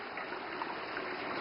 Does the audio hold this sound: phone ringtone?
no